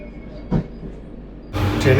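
Rourkela–Howrah Vande Bharat Express pulling out of Tatanagar Junction, heard from on board: a low steady rumble with a brief thump, then a louder, fuller rushing roar building toward the end.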